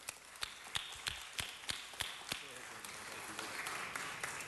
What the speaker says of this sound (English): Let's give them the type of applause that they truly